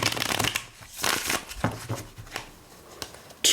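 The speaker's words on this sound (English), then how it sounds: "These cards shuffle nicely." Austin Osman Spare tarot cards are shuffled close up in several quick riffling bursts of papery flutter and slaps, with short pauses between them.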